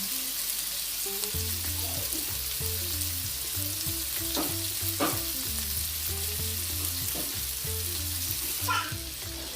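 Shrimp frying in a pan for Jamaican-style coconut curry, a constant close sizzle with light scrapes and clinks as the pieces are turned.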